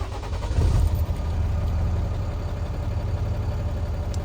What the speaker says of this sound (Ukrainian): Спробуємо завести автомобіль.